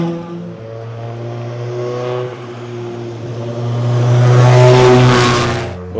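WRC rally cars rolling slowly along a liaison section, an engine droning steadily up close and swelling louder as a car passes, then easing away.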